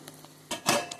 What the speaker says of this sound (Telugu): కొంచెం దీన్ని మూత అయితే ముచ్చేస్తాను